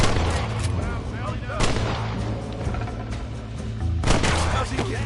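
Repeated gunfire in Red Dead Redemption, with loud overlapping shots and heavy booms coming in bursts, the strongest near the start and near the end.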